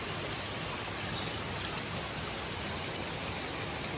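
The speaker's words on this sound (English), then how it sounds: "Just on the side of the path here, just this little waterfall coming down the rocks." A small waterfall tumbling down rocks beside a hiking trail in Taiwan, a dense, steady hiss of falling water, close and even from start to finish with no voices.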